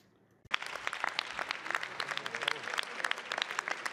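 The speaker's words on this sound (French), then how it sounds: "avec quelques applaudissements sur les bancs de la droite et de la majorité" Applause breaks out suddenly on the benches of the French National Assembly, a steady patter of many hands clapping that continues at moderate volume after a quiet start.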